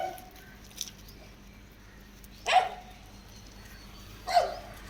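Puppies bark and yip in two short, sharp bursts over quiet background, with a faint whimper early on and no talking.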